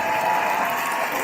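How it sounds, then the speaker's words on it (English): Brief, dense round of applause from an audience at a one-woman show, steady clapping filling the moment without any voice. "Let's get that a round of applause, of course."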